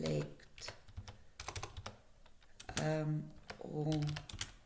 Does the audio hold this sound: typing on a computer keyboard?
yes